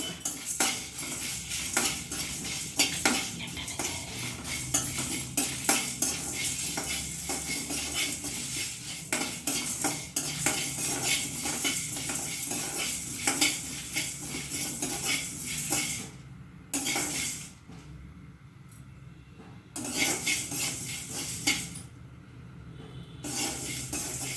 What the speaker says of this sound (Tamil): பாருங்கள் வறுத்துக்கிறோம்